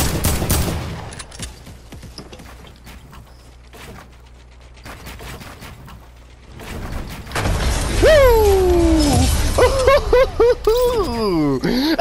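Fortnite gunfire crackles in short bursts amid game effects, followed by sweeping tonal sounds and clatter, loud and close, with a player's voice heard in the mix.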